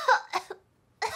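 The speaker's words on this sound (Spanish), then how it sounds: "Vuelve a toser." A person coughs during a doctor's examination, three short, harsh, close coughs in quick succession with a brief pause before the last, otherwise quiet.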